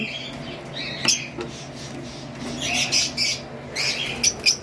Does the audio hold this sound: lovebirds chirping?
yes